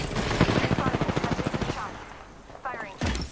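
Rapid gunfire in a shooting video game, a burst of evenly spaced shots for about a second and a half, followed by a few separate louder shots and thuds, close and fairly loud.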